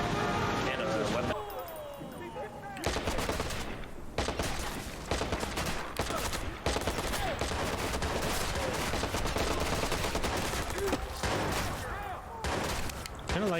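An MP5 submachine gun in Fallout 76 fires long, dense automatic bursts nearly nonstop, loud and close, with brief pauses between strings as a player speaks over them.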